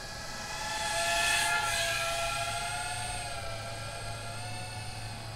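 A GEPRC Cinelog30 V3 FPV drone cruises in flight, its propellers giving a steady high whine with layered tonal harmonics and airy hiss, swelling slightly as it passes nearer then holding an even drone throughout.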